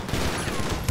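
A brief burst of Grand Theft Auto V gunfire, a dense rapid volley lasting under a second with a heavy thump at the end.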